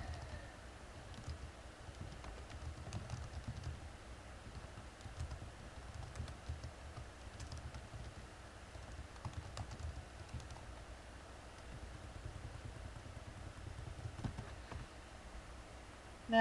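Light typing on a computer keyboard during a Photoshop Elements text edit, faint and steady key clicks over a low room hum with no talk.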